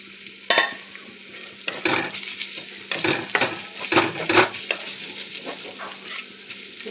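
Cumin and coriander powder frying with spices in a pan for dal, with repeated stirring scrapes and soft sizzling, close and moderately loud, no talk.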